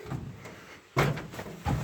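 A light car half door shuts with a solid thump, followed shortly by a second softer knock, close by in a quiet space.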